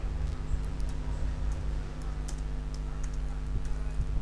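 Light keystrokes tap on a computer keyboard in a quiet room, scattered soft clicks over a steady low hum, with no talking.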